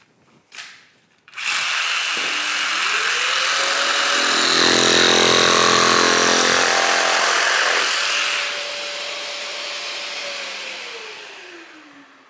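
A Festool CARVEX PS 420 pendulum jigsaw starts up and cuts at a low speed setting. It gives a steady, loud mechanical whine with a buzzing blade stroke, then winds down and stops.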